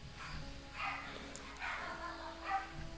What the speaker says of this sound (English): there's some background noise of dogs